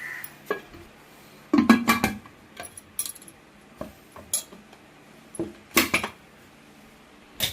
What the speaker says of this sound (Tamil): போட்டு இப்போ மூடி போட்டு நம்ம வேக வைக்க வேண்டியதான்